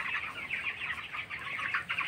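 Broiler chickens on a poultry farm, about 22 days old, cluck steadily at close range. The calls are continuous and overlapping, with some wing flapping and no speech.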